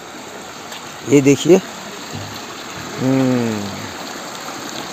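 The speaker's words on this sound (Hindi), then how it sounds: "और ये एक छोटा सा नदी है" A small river stream in a recreation park in Diphu, Karbi Anglong, Assam, flows with a steady, soft rushing wash beneath someone speaking briefly.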